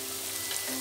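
Chopped tomatoes hitting lightly browned onions in a hot pan for baingan bharta give a brief, even sizzle with a soft hiss, close and unaccompanied by talk.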